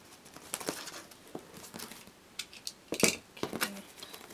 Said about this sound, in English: I'm just gonna cut this open.